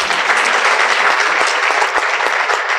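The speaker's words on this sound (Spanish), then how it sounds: "A mi junta directiva, para la que también pido un aplauso." A large assembly audience claps for a board of directors, loud dense applause sustained evenly throughout with a few sharper individual claps standing out.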